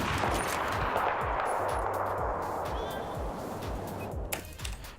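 Dense, continuous gunfire from a video game montage, a war tape shots sequence, with rapid repeated shots and booming low thumps throughout, loud and sustained with no talk.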